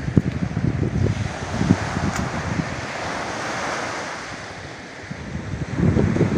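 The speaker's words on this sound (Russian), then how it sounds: "Мы пришли попрощаться с морем." Sea waves wash onto the shore in repeated surges, loud and close, with gusty wind buffeting the microphone and a quieter lull in the middle before the surf swells again; no one speaks.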